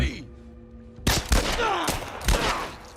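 Several sharp gunshots crack in quick succession from The Last of Us video game, loud and close, after a moment of quieter sound.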